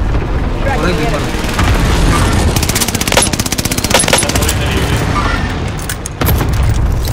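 Rapid bursts of video game gunfire in Battle Royale Operation Fortune crackle over a rumbling background, with repeated shots clustered in the middle and more sporadic ones later.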